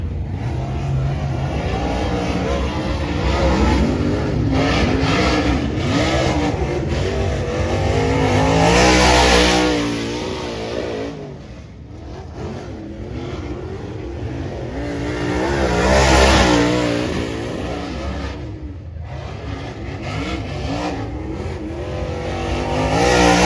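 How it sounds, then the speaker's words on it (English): Modified race cars roar around the dirt oval at Peoria Speedway, engines swelling loudly as they pass close by, then fading and returning in repeated waves of revving over continuous crowd and track noise. "So we got the car rolling pretty good, but it was super tight."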